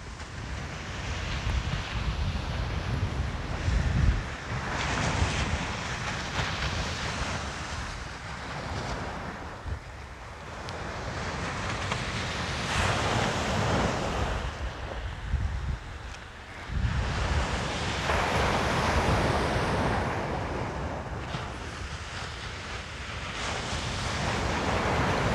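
Sea waves breaking on Comporta beach in Portugal, a continuous loud roar of surf rising and falling in long surges, with wind buffeting the microphone and no voices.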